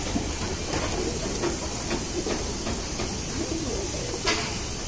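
Pigeons in a loft coo softly and steadily through a continuous low murmur, with a few brief flutters and rustles on top, close by and fairly quiet, no one speaking.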